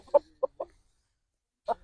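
A rooster gives a few short clucks, three quick ones close together, a pause, then one more, near and fairly soft in a quiet space.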